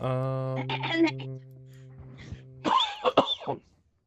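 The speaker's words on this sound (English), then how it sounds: "That was a real cough." A cough bursts out during a casual online gaming chat, a short cluster of harsh, breathy hacks close to the mic after a sustained tone and some vocal sounds.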